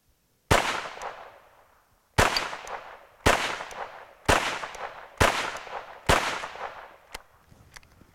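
An ATI GSG MP40 submachine gun fires six loud single shots, each a sharp crack with a ringing outdoor echo, at spaced, slightly irregular intervals, followed by a couple of fainter pops.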